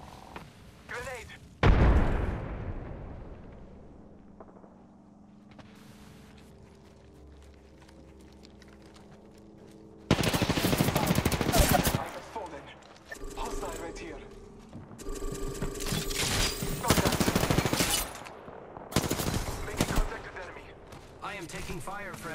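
Gunfire in the battle royale game Apex Legends comes as an early loud shot, then heavy repeated bursts of automatic fire mixed with game effects and voices speaking over it.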